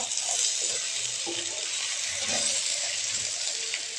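Taro roots and potatoes fry steadily in a pan, giving a continuous soft sizzle with faint stirring scrapes, heard close up and without talk.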